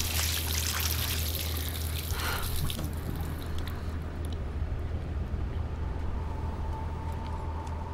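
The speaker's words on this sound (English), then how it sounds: "Let's splash the water in the face" In the Life is Strange video game, water runs and is splashed onto a face: a loud rushing pour for about three seconds that cuts off to quieter drips and a low steady hum.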